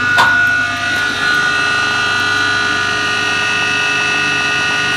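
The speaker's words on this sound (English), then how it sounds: "The electric motor is consuming 5 amps, which is equivalent to about 20 amps right here." An electric motor idles unloaded on inverter power, drawing about 20 amps, giving a steady loud hum with fixed tonal whine lines and a brief click near the start.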